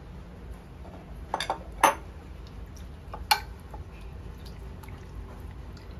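Baby abalone and duck tongue are stirred together in a bowl for a cold dish, with a few sparse clinks and wet taps against the bowl over a quiet background and no talk.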